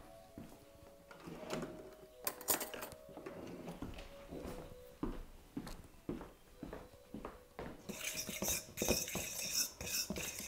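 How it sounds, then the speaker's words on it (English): A fork stirs millionaire pie mixture in a bowl, producing scattered light clinks and scrapes at close range with faint kitchen handling noise and no voices. "gonna give that just a little stir. I'm gonna get a fork because that's what actually stirs this better"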